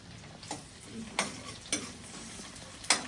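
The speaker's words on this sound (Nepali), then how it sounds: "अब एकछिन यसलाई फ्राई हुन दिनुपर्छ" Onions fry in oil with a steady, close sizzle, broken by four distinct scrapes or taps of a spoon against the pan at roughly even intervals.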